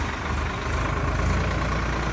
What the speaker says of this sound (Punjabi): ਲੋ ਜੀ ਬਾਈ ਚੱਲਿਆ ਜੀ ਟਰੈਕਟਰ